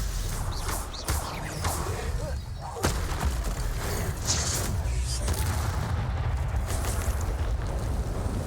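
Stupefy, a stunning spell, fires in Hogwarts Legacy combat, heard as whooshing bursts and heavy booms within a constant roar of battle effects, with no speech.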